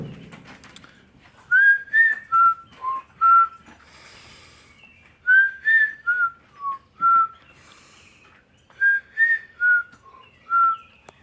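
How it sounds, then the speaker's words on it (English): Whistled tune of the Close Encounters of the Third Kind theme, performed to birds outdoors: three clear phrases of five pitched notes each, separated by pauses, close and fairly loud over a soft background hiss. "Some of you might recognize that that's actually the theme from Close Encounters of the Third Kind."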